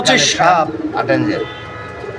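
Pigeons coo briefly and close by while someone speaks over them at a market selling pigeons.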